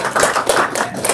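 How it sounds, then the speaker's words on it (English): Sparse clapping from a small audience at an opening-remarks event, a few scattered hand claps in a loose, uneven rhythm, fairly close and alone. "You guys can clap, it's okay."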